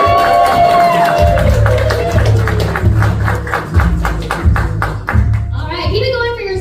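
A comedy club audience claps and cheers for a comedian taking the stage, steady dense applause with whoops, while a host's voice talks over it at the start and end.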